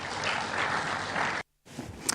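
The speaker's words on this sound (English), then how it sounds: "Applause for the Deputy President there from those attending that event" Attendees at a Kenyan State of the Nation event applauding the Deputy President: a broad wash of clapping that holds steady, cuts off abruptly, then resumes more thinly with a few sharper claps.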